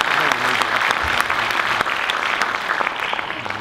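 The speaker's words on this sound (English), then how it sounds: "Let's give them a big round of applause," Dense, loud applause from a large audience at the FIATA World Congress 2019 opening ceremony, continuous clapping filling the whole stretch with faint voices underneath.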